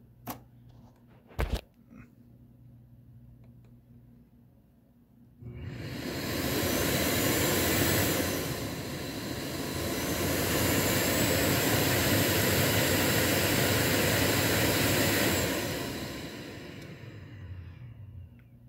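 A Sebo D4 canister vacuum cleaner, running with no hose attached, starts up after a short quiet stretch and a couple of clicks, then holds a loud, steady, rushing roar to the end.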